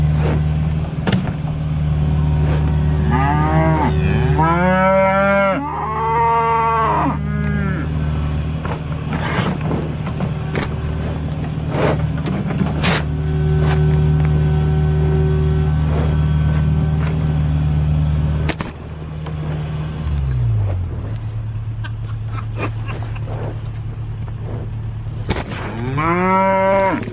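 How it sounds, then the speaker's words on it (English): Cows moo repeatedly in a farm field, several long, loud, close bellows in bursts among steady engine rumble and occasional sharp knocks, with no talk. "Y'all were attacked by the cows."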